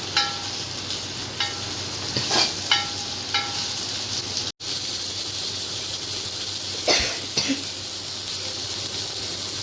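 Masala-coated fish frying in a pan gives a steady, close sizzling hiss throughout, with a few light scraping clicks early on and a brief dropout midway.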